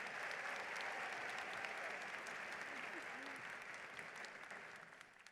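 Audience applause at a Prairie View A&M University Founders' Day convocation rises as a sustained, dense roar of many hands, steady and full before easing slightly toward the end, with a voice briefly heard beneath it.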